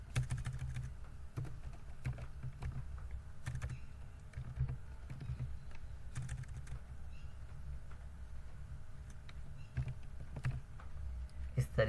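Keys clatter on a computer keyboard as text is typed into an Excel spreadsheet, quick irregular taps over a faint background hum, soft and fairly close.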